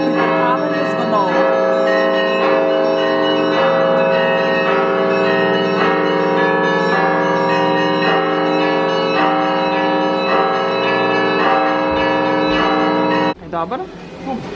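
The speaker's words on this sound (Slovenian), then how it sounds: "Rusi so znani po pripetavanju zvonov." Russian monastery church bells ring together in a continuous, layered peal of overlapping tones that carries on before abruptly changing near the end.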